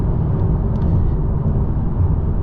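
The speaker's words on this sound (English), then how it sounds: "Tire noise is actually very good, but there is road noise." Steady, loud low rumble of road and tire noise fills the cabin of a 2024 Honda Accord Hybrid on the move, a constant droning wash with no voices.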